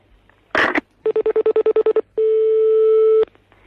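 A phone call being placed: a short noisy burst, then a rapid run of about ten dialing tones, followed by one long steady ringback tone, with no talking.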